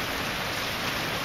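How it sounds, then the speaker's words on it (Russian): Rain beginning to fall in a visual novel sound effect, a dense, even hiss of drops on surfaces heard alone, steady and close. "капли дождя начали падать."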